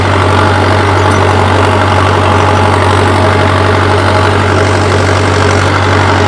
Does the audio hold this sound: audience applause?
no